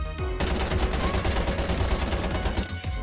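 Rapid automatic fire from an AK submachine gun in the game VH3, a dense, loud burst of shots that runs almost the full length, with a brief gap at the start.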